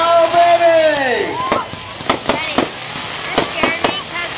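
A fireworks show with whistling rockets rising, then a rapid series of sharp booms and crackling bursts, loud and close, with a crowd and voices reacting in the background.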